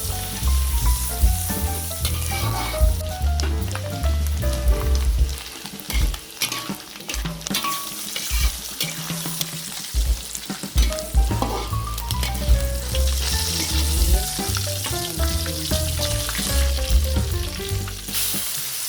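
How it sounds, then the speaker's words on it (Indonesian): Anchovies fry in hot oil in a wok with a continuous dense sizzle and crackle, punctuated by frequent stirring scrapes and clatters, close and loud throughout with no talking. "Sebelumnya, ikan terinya kita goreng dulu."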